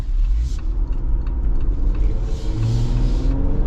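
A 2025 AEV Wrangler JL370 Venture with 4.88 gears revs its engine while driving, producing a loud, close, continuous low rumble and drone with rising engine pitch and road noise, heard from inside the vehicle without speech.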